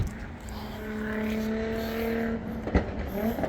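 Car traffic on a nearby highway, sounding like racing cars, with a steady engine drone and rising tones that build and pass at moderate distance, plus a brief sharp thump near the end.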